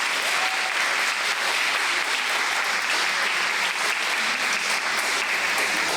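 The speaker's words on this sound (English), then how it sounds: "Let's give a round of applause to all the third places that we like to enjoy." An audience applauds through a Disability Pride Month gathering, a dense, steady wash of clapping that stays loud and even from start to finish with no voices on top.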